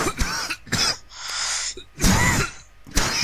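A voice imitates a dry, non-productive cough, demonstrating it as seen with laryngitis: several sharp, close cough bursts in short groups, separated by brief pauses, with no other sound.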